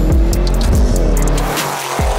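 An Audi RS7 with a V8 engine accelerating hard, revving up in rising sweeps, then dropping off briefly before surging again, loud and close with a faint tire squeal.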